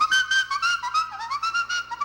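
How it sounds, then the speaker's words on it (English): A man whistles in an African style, a bright, agile melody of short pitched phrases that slide and trill, heard up close and alone with no talk. "And the way they whistle is like this."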